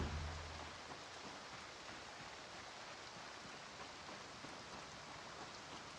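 Rain falls in the Project Zomboid video game, a soft, even, continuous hiss that stays faint and unchanging throughout with no voices over it.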